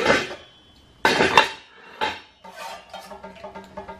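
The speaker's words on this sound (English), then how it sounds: "It's Revereware, and it's three pans. I'll hold them up." Three Revereware pans with lids being handled, giving three loud metallic clanks with short rings and then a run of lighter rattling clinks of lids and metal, close and with no talk.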